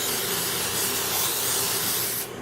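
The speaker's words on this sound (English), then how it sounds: "spray this pan real good so none of it sticks in here" Cooking spray hisses onto a baking pan in one continuous close, loud burst lasting about two seconds, then cuts off.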